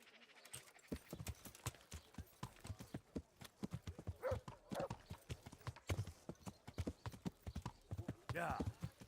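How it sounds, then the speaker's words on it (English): Horse hooves clip-clop in the medieval game Kingdom Come Deliverance, a brisk, rhythmic run of sharp hoofbeats that continues throughout at close range. "I need the horsey."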